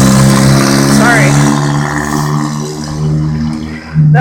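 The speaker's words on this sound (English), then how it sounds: "That was a car" A car drives past with its engine revving, a loud, steady mid-pitched drone that rises again at the very end.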